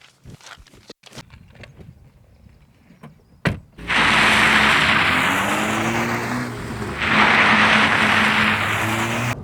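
An Alpine A110 sports car starts off after a few quiet clicks and thumps, its engine note rising loud and close from the cabin, climbing through gears with a dip and a fresh surge of revs.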